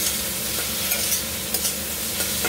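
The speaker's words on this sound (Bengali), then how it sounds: "এগুলো এবার ভেজে দেবো।" Spices and aromatics frying in hot oil in a pan before chicken is added, a steady close sizzle with occasional stirring scrapes throughout, no talking.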